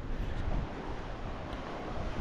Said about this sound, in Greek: Που εκεί στο βάθος ακούω και θάλασσα